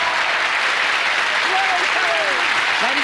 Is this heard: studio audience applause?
yes